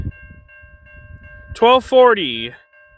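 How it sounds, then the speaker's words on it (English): A CN or VIA train approaches a level crossing, where a crossing bell rings continuously and a loud multi-tone train horn sounds in two short blasts and then a longer one, close by. "Alright, we got a westbound train coming, eastbound train."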